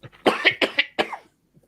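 A man coughing in a quick run of four or five harsh, close bursts over about a second, then fading to near silence.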